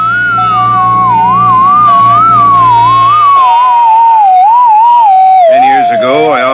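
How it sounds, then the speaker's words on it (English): A wavering, sliding radio whistle jams a channel, holding loud and steady throughout with a low hum beneath it and no talk. "Probably some ham operator jamming the channel, sir."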